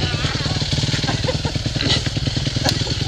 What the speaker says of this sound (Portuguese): que moto ligeira!